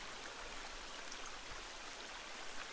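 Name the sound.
waterfall in the video game The Forest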